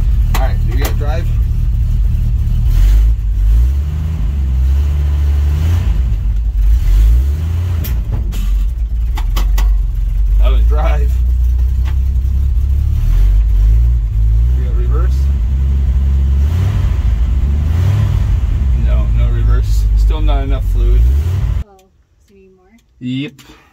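A 1969 Dodge D100 pickup truck runs with a loud, steady engine rumble for about twenty seconds, at times rising, with people talking over it, then cuts off abruptly near the end, leaving brief quiet.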